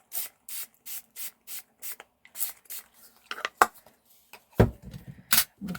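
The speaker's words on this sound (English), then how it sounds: "I'm going to grab my water spray and just get that moving about a bit." A handheld water spray bottle squirts onto paint in a craft project, several short even bursts in a steady rhythm, followed by a few irregular rubbing and handling noises, close and fairly quiet with no talk.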